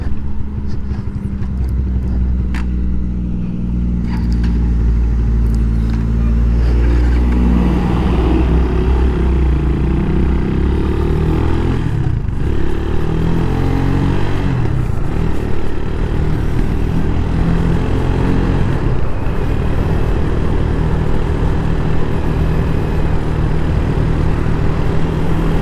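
A 2024 CSC San Gabriel 250 motorcycle engine running, a loud, steady low throb that rises in pitch as it revs, close and continuous with no talk.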